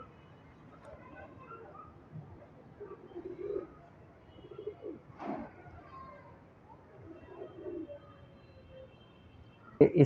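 Soft, low pigeon coos come and go in short murmuring bursts, with some faint chirps and a sharp knock at the end.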